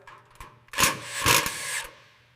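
A power tool whirs in two or three short bursts, driving bolts during restoration work on a 1927 Dodge Doodle Bug, close and fairly loud after a quiet start.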